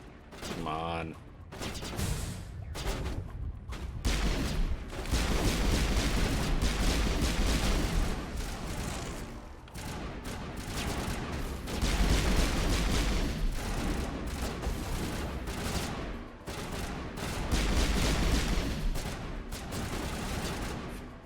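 Gunfire in the video game Mass Effect during a firefight with Geth, with repeated bursts of rapid shots and heavy blasts that rise and fall over the whole stretch, while a voice talks intermittently in between.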